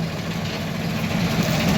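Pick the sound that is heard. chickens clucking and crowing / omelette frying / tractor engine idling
tractor engine idling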